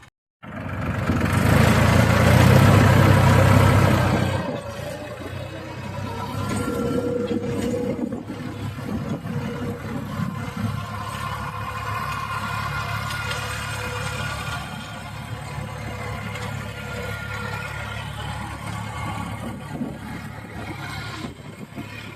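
A New Holland tractor engine drives a Shaktiman rotavator through an orchard, a loud close roar at first that settles into a steady, slightly lower drone for the rest of the run.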